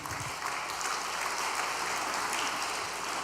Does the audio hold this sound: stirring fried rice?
no